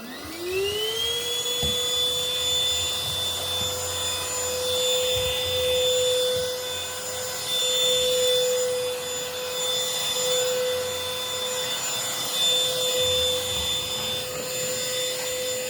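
A SEBO vacuum cleaner spins up and holds a steady high whine with a tonal motor hum while sucking dust and grime out of a cold air return in a two-story house, loud and continuous with faint scraping underneath.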